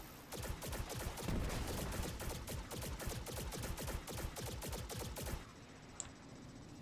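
Rapid gunfire in the video game Destiny 2, a dense fusillade of automatic shots running steadily for about five seconds before cutting off abruptly; loud and continuous with no talk.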